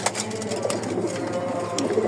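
Soft cooing from a loft of female racing pigeons, Chinese nasal tuft birds, keeps up steadily over a bed of rustling and fluttering, with no voices.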